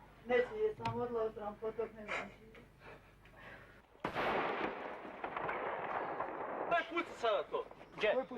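Gunshots ring out near a house during wartime, arriving as sharp cracks amid shouting voices and then giving way to a loud, sustained rushing roar of further firing.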